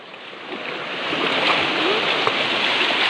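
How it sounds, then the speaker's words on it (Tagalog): A tiny waterfall on a farm rushes in a steady, broad wash of water that grows slightly louder partway through, continuous and fairly close with no talking. "Ang cute nung falls na mali. Tiny falls."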